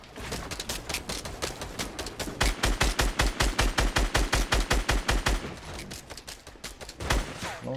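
Rapid automatic gunfire from a shooter video game, a fast steady rhythm of loud shots that swells in the middle and continues through to the end, with game music and effects underneath.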